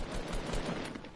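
Rapid gunfire in the Fortnite video game, a dense continuous burst of shots at moderate level with no talking over it.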